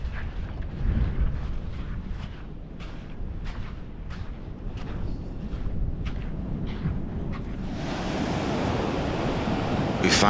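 Ocean surf rolling onto the Atlantic shore at Cape Point, Cape Hatteras, a steady wash of breaking waves with soft wind, swelling louder and fuller toward the end.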